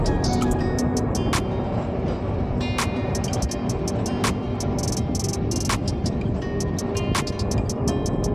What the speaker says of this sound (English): we're on an old tram now, on our way to the zoo.